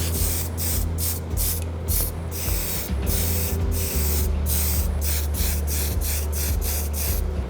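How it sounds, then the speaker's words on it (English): Primer sprayed from an aerosol can onto prop parts in a rapid series of short hissing bursts, steady and close, with brief pauses between sprays. "That helps the spray be a little more misty when it comes out the front of the nozzle"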